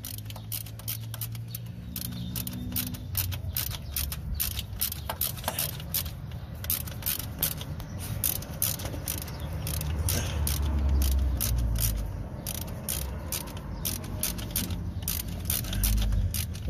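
Wrench ratcheting on the nut holding the upper mounting ear of a Chevrolet Aveo starter motor, a long run of rapid, evenly spaced metallic clicks close by, with a low rumble and faint talk beneath.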